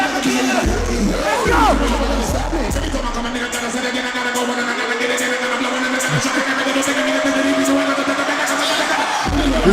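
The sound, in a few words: crowd cheering at a concert moment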